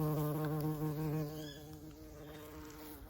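A bee carrying pollen in its pollen baskets buzzes close by in the UK in December, giving a steady droning hum that is loud at first, then eases slightly as it drifts away.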